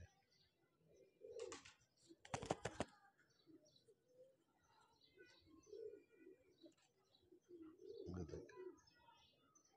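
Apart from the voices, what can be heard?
pigeons cooing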